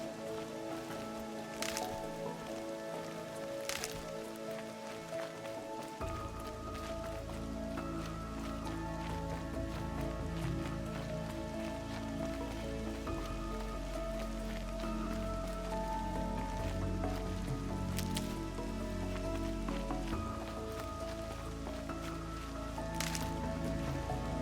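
Rain in the video game Horizon Zero Dawn, a continuous soft wash of falling water. A low rumbling bed joins in after a few seconds and sharp faint ticks appear now and then.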